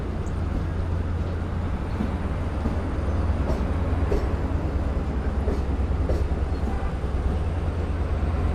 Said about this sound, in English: here we go with the train being pulled forward so they can platform the